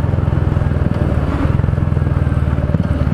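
Royal Enfield Meteor 350 motorcycle exhaust idling close by, a loud, even, rapid thumping pulse that holds steady with no voices.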